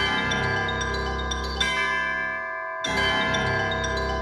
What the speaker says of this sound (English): the chimes we talked about,